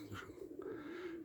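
A domestic pigeon coos softly nearby, a low throaty rolling call drawn out over a second or so, faint and alone in a quiet setting.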